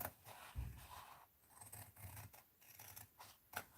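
Scissors cutting along the fold line of drop paper at a desk, a close series of short snipping and scraping strokes with brief pauses between cuts.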